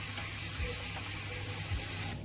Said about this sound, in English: turn on the faucet and wet your hand a little bit